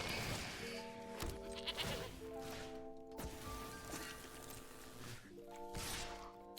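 Goat bleats in a Magic: The Gathering-style digital card game, several short wavering bleats spread across the clip, repeating in a loose rhythm over game sound effects, fairly faint.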